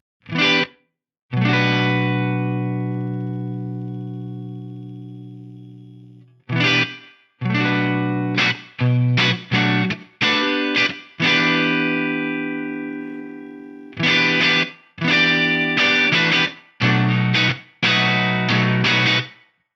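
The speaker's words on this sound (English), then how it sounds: "we'll just dial in a reverb sound" Electric guitar chords and single notes through an Eventide H9 reverb ring out with a lush, spacious reverb tail, some sustained for several seconds, others played in quick bursts.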